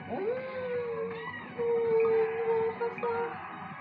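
A pet cat meows in long, drawn-out, wailing cries, close and fairly loud, with a steady background hum and no talking.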